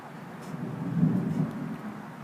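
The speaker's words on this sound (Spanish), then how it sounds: "Un trueno grande, un rayo." Low distant rumble of thunder in a spring storm, swelling to a peak near the middle and fading off, with light background noise and no speech.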